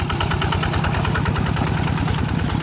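A tractor engine runs steadily during ploughing of a rice field, a loud, close, continuous low rumble with a rhythmic knocking pulse throughout.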